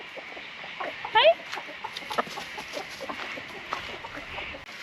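A rooster on a tropical Far North Queensland property gives a short burst of clucking, close and brief, amid quiet outdoor background while a person speaks a word nearby.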